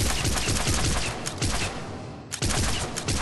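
Arc pistol shots fired at mid-range during Mass Effect 3 target practice, loud rapid bursts of sharp electric gunfire with a short pause before another burst resumes.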